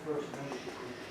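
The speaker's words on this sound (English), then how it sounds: "You guys might hear some people talking in the background." Faint, indistinct voices of several people murmur in the background, soft and distant throughout.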